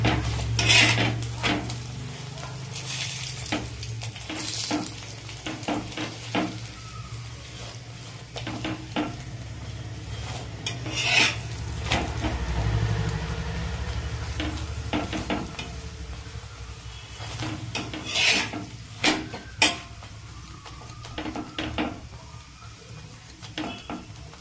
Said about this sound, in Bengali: যেন দু পিঠ ভালো হয়ে ভাজা হয় সেই হিসাবে আমরা ভেজে নেব।